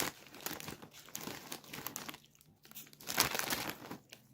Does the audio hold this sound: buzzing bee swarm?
no